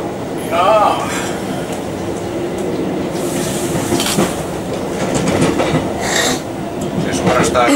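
A train rolls steadily along the rails with loud, continuous rumble and rhythmic clickety-clack of wheels, a brief squeal near the start, heard close by throughout.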